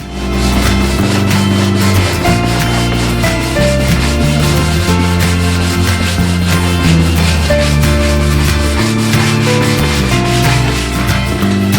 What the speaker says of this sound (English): The last sanding is done by hand, as before.